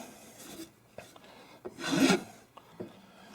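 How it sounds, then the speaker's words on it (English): A rasp files a small bevel into the edge of a wooden AK rifle stock, giving a few soft scraping strokes with one louder, longer rasping pass near the middle, close up and with no talking. "I think I'm going to add a little bit of a bevel on each side to help it go in"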